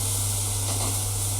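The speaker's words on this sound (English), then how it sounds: "now what I'm going to do is going to add my vinegar. You can hear that sizzling up." Vinegar sizzling as it hits a hot pan of cooking onion, a steady, close hiss of frying that runs without a break and no talk over it.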